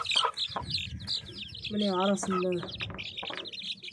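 Kuchinsky Jubilee chicks cheeping and a hen clucking close by, with a short drawn-out call in the middle while a person talks over the birds.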